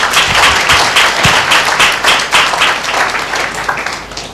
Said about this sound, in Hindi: ये ताली आपने अपने लिए बजाई